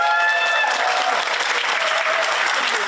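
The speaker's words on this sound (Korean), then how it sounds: "박수 한번 부탁드립니다." Audience applause at a history talk concert, a dense steady wash of clapping from a large crowd, loud and sustained throughout, with faint voices briefly audible near the start.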